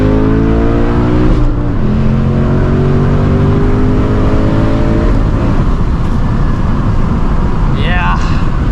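An S650 Ford Mustang GT running E40 fuel pulls through rising engine sweeps on the road, the pitch climbing across several gears before settling into a steady drone, loud and close, with faint talking.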